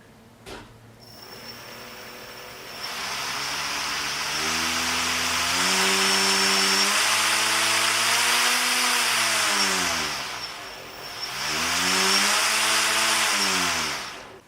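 A brushless motor driven by a FlySky FS-i6 throttle spins up from quiet into a loud, rising whine, holds a high steady pitch, dips briefly, then climbs again, with a faint electronic beep at the start.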